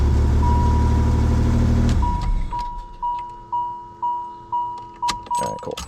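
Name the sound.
Pontiac Fiero GT engine running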